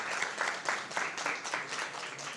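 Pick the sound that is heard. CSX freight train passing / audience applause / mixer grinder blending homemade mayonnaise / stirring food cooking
audience applause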